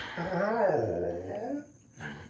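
Dog vocalizing indoors in a house, a drawn-out whining, howling sound with a wavering pitch, followed by a short second yelp, fairly close and moderately loud, with no one talking.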